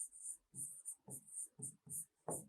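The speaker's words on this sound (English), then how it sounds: "So I will write that here." Writing on a board comes through as a faint series of short scratchy strokes, about seven bursts in an uneven rhythm, each a dry rasping scrape close by in a quiet room.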